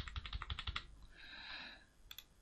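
Fast, close keystrokes rattle on a computer keyboard in a quick burst, then a short pause with a faint whooshing sound, then a few more keys as sample data is entered into a WordPress form.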